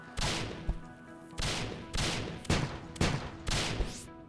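Gunfire in the video game Starbound: about six punchy shots in an uneven rhythm, each a loud, close blast with a short decaying tail.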